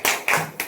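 A church congregation breaks into applause, three sharp bursts of hand clapping in quick succession, close and fairly loud.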